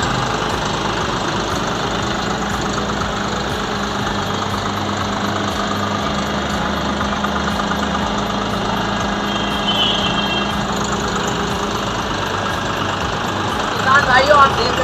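A John Deere 5405 GearPro tractor idles nearby with a steady mid-pitched diesel rumble and a faint knocking texture, continuous throughout, and a few brief clatters near the end.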